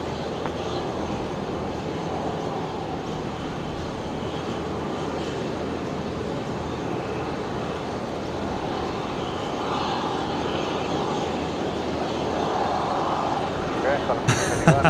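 A Qantas airliner taxis at Brisbane Airport, its engines giving a steady, broad roar that holds level throughout and swells slightly near the end, with a brief burst of sharper noise in the last second.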